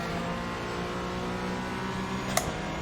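A McLaren GT4 race car engine in iRacing at Phillip Island drones at a steady high pitch, with a brief sharp click near the end.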